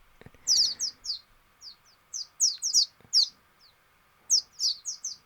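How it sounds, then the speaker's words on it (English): Bird calls play as a sound effect in a Unity game scene, a string of short high chirps and tweets, some doubled, coming in uneven clusters over a quiet low background hum. "there's a bird"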